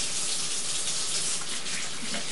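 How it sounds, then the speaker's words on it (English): Hands are rinsed under running kitchen tap water, a steady close hiss and splash that continues without pause throughout. "I'm going to rinse my hands."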